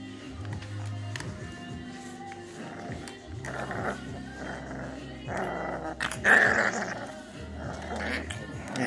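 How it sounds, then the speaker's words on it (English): A puppy growls low and rumbling in several bursts, with short yips and excited voices chiming in nearby. "He's the first one growling."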